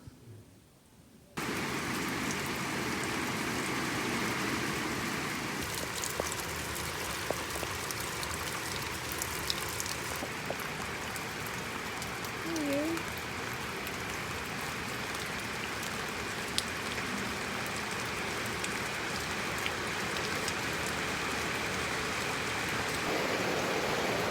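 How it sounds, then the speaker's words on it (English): Steady rain pours down outdoors for a long stretch, a dense, even hiss that starts abruptly and continues unbroken, with faint scattered drips on top. "Of course it was going to rain."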